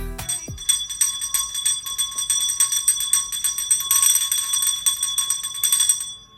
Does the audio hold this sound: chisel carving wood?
no